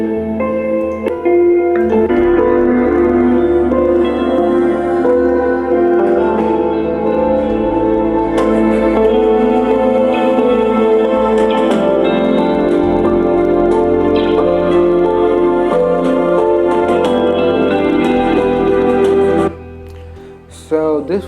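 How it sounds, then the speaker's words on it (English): Loud music blasting at maximum volume from a small Boat Stone 300 Bluetooth speaker, dense and slightly harsh, playing steadily for about twenty seconds before cutting off abruptly. "So this was the sound that was coming out from the speaker."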